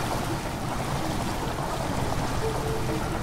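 Rushing water floods into a chamber in Amnesia: The Dark Descent, a dense, continuous churning wash like a stream or surf, steady and fairly loud with no talk.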